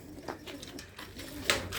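Pigeons in wire-mesh coops coo faintly in a brief burst of a few soft, low calls, with no talking.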